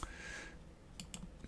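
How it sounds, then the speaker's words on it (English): Fingers tapping a computer keyboard, a brief cluster of quick, close keystroke clicks after a fading hiss, with no talking. "if I do it manually by typing in a larger number, I can do that"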